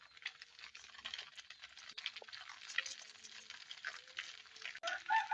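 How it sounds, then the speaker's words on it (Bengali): Pasta being stirred and mixed with noodle seasoning in a pan, with a steady soft sizzle and a scraping clatter of the spoon against the pan, close and fairly quiet. "ভালো করে মিশিয়ে নেব পাস্তা আর মশলাগুলো।"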